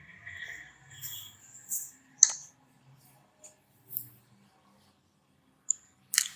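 Sparse computer mouse clicks while choosing New Project in MIT App Inventor, a few sharp isolated taps scattered between soft quiet rustles.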